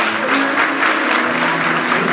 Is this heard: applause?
yes